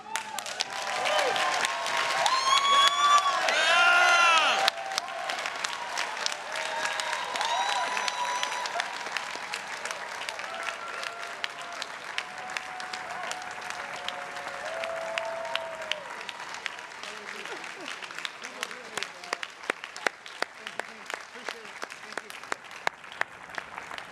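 A large audience at Harvard Class Day breaks into loud, sustained applause and cheering, with whoops rising over the clapping before it thins to scattered claps over about twenty seconds.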